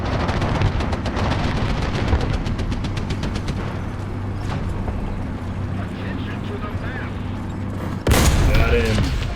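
Tank cannon fire in War Thunder from a British Valentine Mk.IX medium tank, with a steady engine rumble and scattered distant shots, then a sudden loud close blast near the end.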